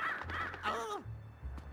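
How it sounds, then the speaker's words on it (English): Birds caw in a video game, a crow-like call with a couple of harsh caws in quick succession, fairly close and clear, with almost no talk over it. "Birds."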